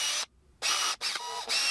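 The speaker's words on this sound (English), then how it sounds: "I'm already on the drill." A power drill bores into a handmade wooden crankbait lure in several short whirring bursts separated by brief pauses, close and fairly loud with no talk.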